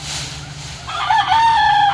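A rooster crows loudly and close by, a long drawn-out call rising over a background of low clucking and farmyard murmur.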